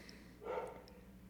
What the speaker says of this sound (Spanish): Perdón por los ladridos, es mi perrita que quiere participar.